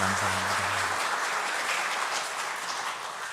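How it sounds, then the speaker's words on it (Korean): Church congregation applauding during a Sunday service, a steady wash of clapping from many hands that holds fairly even for a few seconds and slowly thins, with a low hum fading out early on. "여러분, 감사의 박수를 한번 보내주시기 바랍니다."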